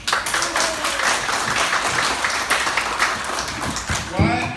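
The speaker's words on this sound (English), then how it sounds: "Why are you people clapping as if we have a problem?" Audience at a church conference in Baguio clapping and applauding, a steady crowd-wide patter lasting several seconds with voices mixed underneath.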